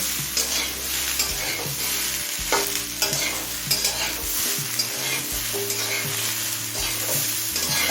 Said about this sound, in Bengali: এবারে এই সবজিগুলোকেও কিছুক্ষণ ভেজে নেব